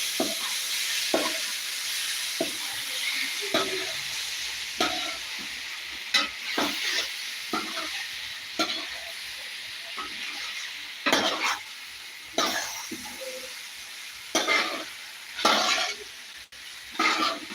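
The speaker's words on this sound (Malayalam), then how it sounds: "നന്നായി ഇളക്കി കൊടുക്കുക" Onion and masala frying in a pan, with a steady sizzle under repeated scraping stirs of a utensil against the pan at irregular intervals, close and clear, no talking.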